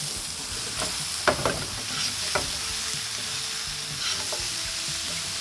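Mushrooms, shallots and carrots cooking in a pan, with a steady soft sizzle broken by a few sharp clicks of a utensil scraping and stirring.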